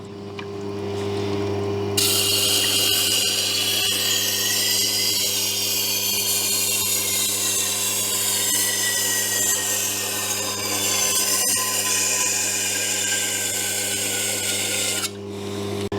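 A knife blade is sharpened against a motor-driven sharpener, a steady electric hum under a close, continuous grinding scrape that starts abruptly and cuts off near the end.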